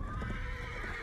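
A horse neighs in the video game Battlefield 1, a loud, wavering whinny held for about a second over busy game noise.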